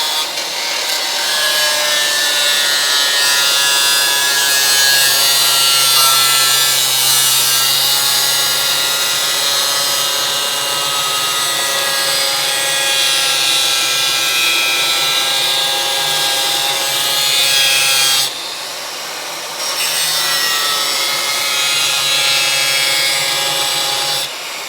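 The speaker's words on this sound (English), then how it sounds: "So now I'm going to see if we can grind these spot welds off." Grinder disc cutting and grinding off spot welds on a Crew Cab Charger body during restoration, a loud continuous rasping whine with steady tone, briefly dropping out near the end before resuming.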